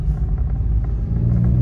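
A car with a repaired exhaust, quietened by a DB killer, drives along with a steady, close, low rumble that holds throughout and carries no talk.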